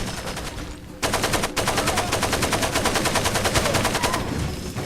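An AK rifle in the video game Far Cry 2 fires a rapid burst of shots. A brief pause follows, then a longer run of evenly spaced, loud cracks that stops abruptly.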